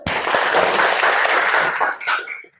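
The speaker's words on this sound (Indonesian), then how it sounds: "tepuk tangan dulu" Students applaud in a classroom, a short burst of loud, dense clapping that drops off abruptly after about two seconds, followed by a few last claps.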